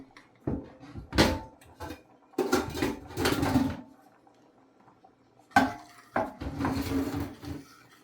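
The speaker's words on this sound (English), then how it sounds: "And you continue to stir it." A utensil stirs cheese sauce in a pan on a medium-low stove, giving three bursts of scraping and clinking against the metal with quiet pauses between them.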